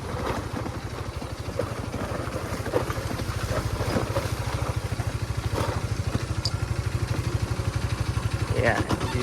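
A Honda Supra GTR motorcycle with a 6-speed gearbox and 76,000 km on it idles steadily nearby, its single-cylinder engine putting out an even, rapid thumping pulse that holds for the full stretch.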